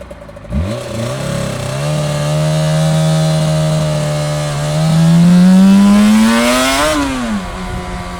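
A Suzuki RG500 two-stroke motorcycle with a dry clutch, heard close and loud as it starts, idles briefly, then revs up in a rising, buzzy whine, holds, and drops back toward idle.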